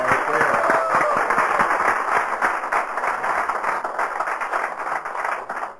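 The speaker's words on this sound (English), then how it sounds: "give John a big round of applause" Audience applause greeting speaker John W. at an AA history talk in East Dorset, steady dense clapping throughout with some cheering mixed in, sustained at even loudness.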